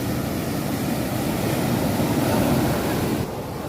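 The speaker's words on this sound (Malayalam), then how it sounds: "നല്ല കടലുണ്ട് നല്ല തിരമാല" Rough sea with big waves surging continuously during net fishing for Indian threadfin salmon, a loud, steady broadband roar with wind buffeting the microphone, dropping slightly near the end.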